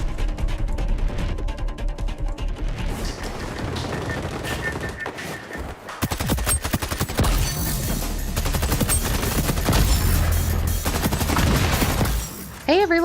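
Rapid gunfire from new weapons in the XDefiant shooter game, including an SMG, an LMG and a shotgun, with sustained automatic bursts and sharp single shots mixed with explosive booms and game effects.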